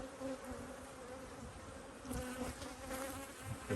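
Honey bees buzz steadily around a beehive in a garden apiary, a dense continuous hum close by with slight swells in loudness.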